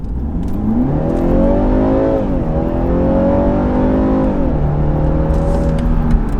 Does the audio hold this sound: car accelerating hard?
yes